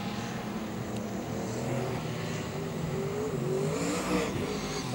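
A race car engine revs and roars at full throttle during an enduro race at Archerfield Speedway, a steady loud mechanical drone with rising pitch as it accelerates, mixed with crowd and track ambience.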